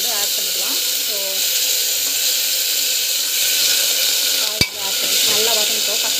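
Ivy gourd and garlic sautéing in a pan, a steady close sizzle and frying hiss with stirring scrapes throughout and one sharp knock of the spoon against the pan near the end.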